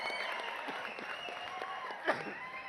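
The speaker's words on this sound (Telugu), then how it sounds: "క్లాప్స్ కొట్టండి ఒకసారి" Audience applause at a film fandom tour event in Warangal, a steady wash of clapping from a large crowd with a brief louder burst near the end, no speech over it.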